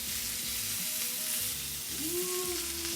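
Lamb chops fry in a pan with a constant, close hiss of sizzling fat that holds evenly throughout, with no voices.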